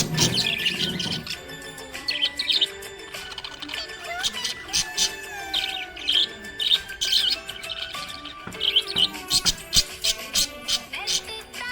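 A happy green budgie chirps and tweets in rapid bright bursts, close and lively, repeating throughout over a faint background.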